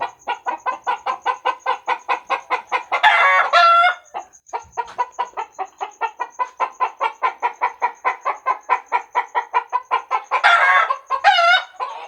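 A chicken clucks in a fast, steady rhythm, close by, breaking twice into louder squawking cackles before resuming the even clucking.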